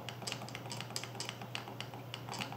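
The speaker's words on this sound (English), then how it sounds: "When you release the button, you hear like a sponge." Side buttons on a Delux M631 gaming mouse clicking repeatedly, a steady run of light, close taps, each with a soft, spongy release.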